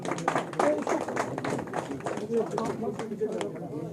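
An audience at a political welcome event claps steadily to greet a guest, a close, busy patter of many hands mixed with voices and murmuring throughout.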